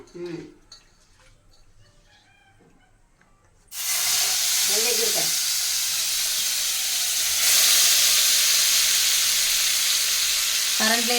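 Spiced brinjal seasoned with turmeric, salt, chili and masala powder hits hot oil after a quiet start with brief voices, then a loud, sustained sizzle crackles on, swelling further midway, with a short voice near the end.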